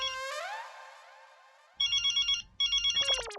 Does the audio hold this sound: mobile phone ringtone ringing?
yes